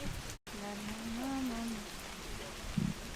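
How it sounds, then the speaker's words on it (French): Heavy rain shower falling in a Cairns rainforest, a steady broadband hiss of drops on leaves and ground throughout, with a brief dropout near the start and a soft nearby voice-like tone running under it. "une averse de fou là"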